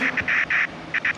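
A duck quacks in the Roblox game FNAF: Co-op in a quick series of about six nasal bursts, clear and close, with short gaps between them.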